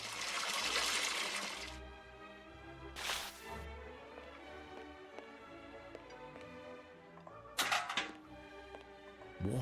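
Water rushes from a tap in the Sherlock Holmes: Nemesis game, a loud splashing stream for about two seconds, then short separate bursts of flow amid quiet ticking and soft background music, no talk.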